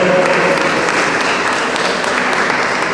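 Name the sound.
applause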